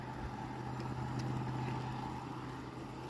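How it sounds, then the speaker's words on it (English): A RailPro model train diesel locomotive hauls about seven empty cars and a caboose, its engine sound spooling up under load as a steady, loud droning hum with a constant low tone throughout. "You can hear the diesel spool up"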